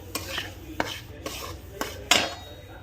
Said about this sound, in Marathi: भांडे घासतीये